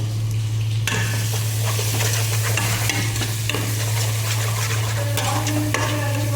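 Mutton pieces fry with turmeric in a hot pan, a dense, steady sizzle with stirring scrapes running throughout, loud and close with no voices.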